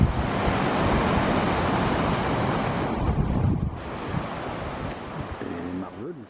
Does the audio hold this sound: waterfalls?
yes